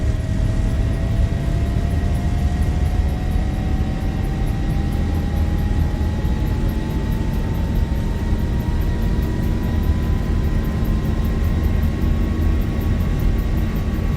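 A Zibo 737 jet accelerates for takeoff in the X-Plane 11 flight simulator game, with a loud, continuous engine roar and a slowly rising whine that holds steady throughout.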